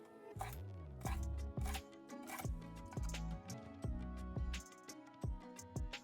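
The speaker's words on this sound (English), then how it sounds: "I'm chopping up some dill, and this will be for my personal finishing touch." A knife chops dill on a cutting board, a fast run of sharp, close taps with short pauses, quiet and alone with no talking.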